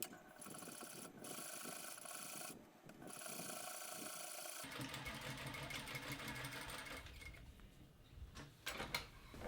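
A sewing machine stitches through all layers of a costume pant leg, running continuously with mechanical ratcheting clatter, close and fairly loud, with a change in texture midway.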